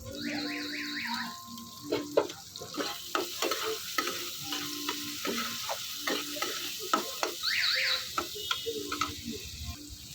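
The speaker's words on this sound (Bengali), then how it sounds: "বেশ কিছুক্ষণ এই পেঁয়াজটাকে নেড়ে চেড়ে লাল লাল করে ভেজে নেব" Finely chopped onions fry in oil with a busy sizzle as a spatula stirs and scrapes the pan in irregular strokes. Faint tonal chirps sound in the background, and nobody speaks.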